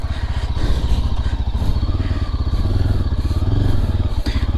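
A 2022 Yezdi Adventure motorcycle ridden off-road gives a loud, steady engine drone with rhythmic pulsing and some rattling clatter throughout.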